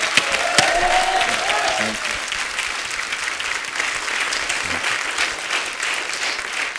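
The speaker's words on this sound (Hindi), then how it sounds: "जोरदार तालियां हो जाए एक बार हमारे कलाकारों के लिए।" A studio audience on The Kapil Sharma Show gives strong applause for the performing artists: loud, crowded clapping with a few sharp individual claps, a voice briefly over the start, then steady clapping that gradually eases.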